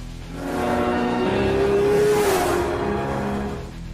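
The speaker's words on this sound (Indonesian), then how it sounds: "Suara dari jalan tol." A car speeds past on a toll road, its engine and tire roar swelling from a distant hum to a loud peak near the middle before fading away again.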